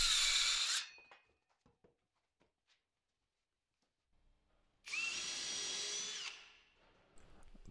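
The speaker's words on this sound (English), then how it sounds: "I like to pre-drill at the end of the beams." A power drill bores pilot holes into the ends of wooden floor joist beams resting on sawhorses, two loud sustained bursts of whining drilling separated by quiet pauses with small knocks and handling sounds.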